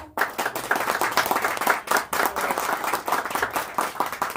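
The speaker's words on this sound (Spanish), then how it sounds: "Le damos la bienvenida con un fuerte aplauso." Warm applause from a crowd at a book launch, a steady, dense patter of many hands clapping for several seconds without any talking.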